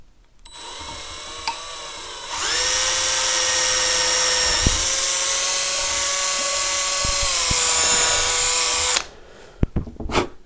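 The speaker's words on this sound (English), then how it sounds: "And I'm just going to drill through at an angle." A long 3mm drill bit bores at an angle through a guitar body, a steady high-pitched whine running for about six seconds after a brief start-up, then stopping abruptly with a few clicks.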